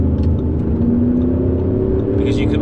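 Audi SQ8 engine pulling hard under acceleration, a steady deep drone with a slowly rising tone inside the cabin, heard beneath someone talking throughout.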